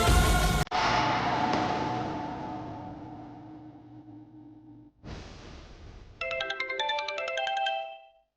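A phone ringtone sounds loud and near, starting with a long, fading chime, followed after a short pause by a fast, bright melodic run of electronic notes, with no talk.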